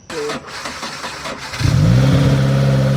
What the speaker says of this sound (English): Sink that clutch, turn that key.